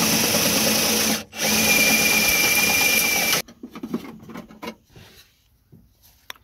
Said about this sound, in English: So I'm just going to drill out the spot welds and use that bracket